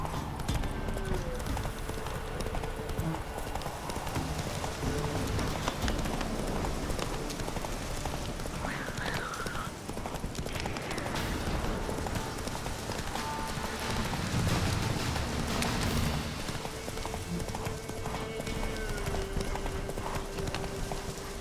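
The horse Roach galloping in The Witcher 3: Wild Hunt, steady rapid hoofbeats running continuously over a dense game soundscape, with faint rain and an occasional whinny.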